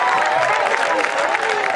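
Audience applause at a university matriculation ceremony, a dense steady wash of clapping from a large hall crowd, with crowd noise and some voices mixed in.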